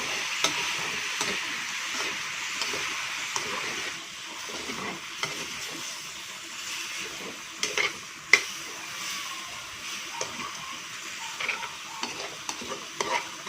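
Pork belly frying in an old, non-stick-free pan while being stirred, a soft continuous sizzle with scattered scraping and ticking stir sounds, close and fairly quiet, no talk.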